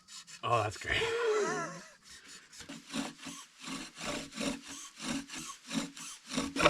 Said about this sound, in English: All right, so we got the bow drill all set up.